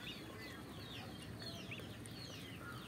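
Two ducks quack faintly while eating puffed rice, a soft scatter of short nasal calls over a steady background hiss, with no speech.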